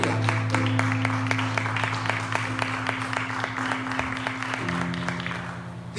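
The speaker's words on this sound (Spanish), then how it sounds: "Denle un aplauso a Dios" Steady applause from a church congregation clapping together, continuous and fairly loud throughout, with a low sustained tone underneath.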